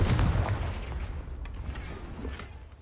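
Confringo blasting spell going off in the Hogwarts Legacy video game, a loud booming blast at the start that rumbles and decays into a lingering low roar with a few faint later crackles.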